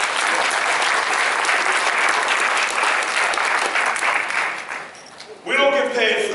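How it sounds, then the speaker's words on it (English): A graduation ceremony audience breaks into sustained, full applause mixed with some cheering. It fades near the end, and then a speaker talks over the hall. "That's right, that's an applause"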